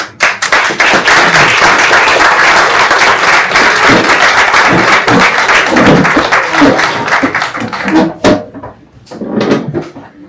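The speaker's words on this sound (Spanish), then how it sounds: "Un fuerte aplauso para ellos." Loud, sustained audience applause at a literary café book presentation fills about eight seconds, then breaks into a few scattered claps before fading.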